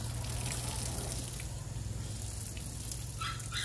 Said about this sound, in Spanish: vamos a lavarlos por fuera rapidín, solamente echarles agua y ya está